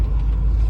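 A ramp truck's big Ford 460 V8 with a four-barrel Holley carburetor and five-speed idles or cruises with a steady, deep low rumble, close and continuous, with no other sounds standing out.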